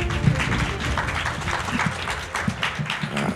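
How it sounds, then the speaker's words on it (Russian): Audience applause at an awards ceremony for a Russian business contest, scattered clapping held at a moderate level throughout. "Здорово, что аплодируете."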